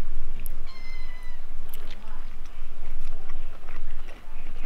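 Cats meow repeatedly at a breakfast table at a beach eco lodge in Fiji, high cries recurring close by amid chewing sounds and a person talking.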